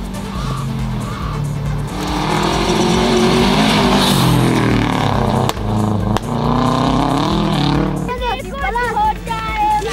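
Subaru Impreza rally car on a gravel stage of the Nane Nane rally in Tanzania, its engine revving loud and close with shifting pitch and tyre noise, while commentary talks over it throughout.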